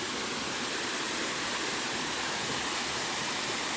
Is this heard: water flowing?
yes